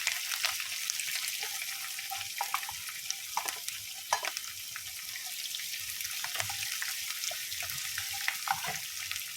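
Green chilies and ginger fry in a pan for a Kerala lime pickle, giving a steady, fairly quiet hiss and sizzle with occasional small clicks and stirring scrapes throughout, and no talking.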